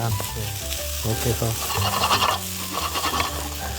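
Shrimp and rice sizzle and crackle hard in a hot wok for shrimp fried rice, with constant stirring and scraping, while someone talks over it.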